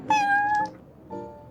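Prince, a cat in the Genshin Impact card game at the Cat's Tail, gives a clear close meow followed by a softer second mew.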